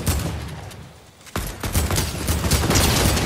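AK rifle gunfire in the Fortnite video game: a loud, dense fusillade of rapid shots that thins briefly, then bursts back in with sustained, overlapping fire.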